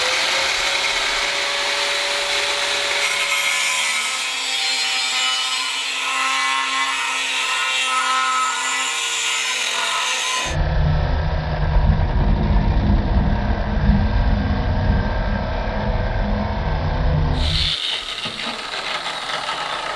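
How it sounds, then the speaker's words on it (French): A knife blade being cut from steel plate with an angle grinder during folding-knife making: a loud, sustained whining grind, shifting to a rougher, harsher cutting roar midway, then easing, with no talk. "là je vais les découper à la meuleuse. Je vais découper la lame"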